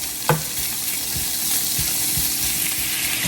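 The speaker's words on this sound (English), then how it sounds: "we're just going to let these sit untouched for a few minutes so they can get that caramelization on that one side" Smoked sausage slices sear in a stovetop pan with a steady, close sizzle and spatter and a few soft pops, no voices.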